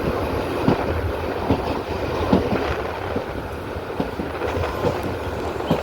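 Train rolling out from Tenkasi, a steady rumbling roar of carriages with faint rhythmic clicks of wheels on rail joints, heard from inside the moving coach with no talking.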